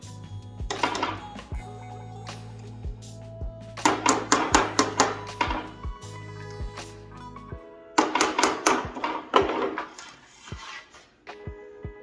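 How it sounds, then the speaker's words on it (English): Bursts of rapid metallic hammer taps on a punch, knocking nails out of a wooden pallet, ring out in clusters, with short pauses between them and a low hum under the first half. "you can take a little punch set and get these out"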